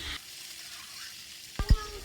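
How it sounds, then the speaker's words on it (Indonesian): Minced squid with bell pepper and tofu stir-fried gently in a pan, a faint steady sizzle with a couple of sharp clatters of the utensil near the end. "Saat menggoreng ini harus pelan-pelan supaya daging cumi-cumi tidak lepas dari paprika ataupun dari tahu"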